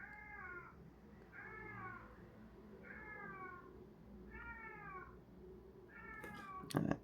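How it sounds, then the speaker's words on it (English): A cat meows five times in a steady, evenly spaced series, each call a clear drawn-out wail over a low background hum, with a brief clatter at the end. "Can you hear that cat?"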